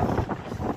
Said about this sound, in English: it's a bit windy, but it's nothing too bad.